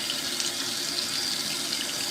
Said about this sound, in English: we're gonna get some hot water in, because it says hot wash on there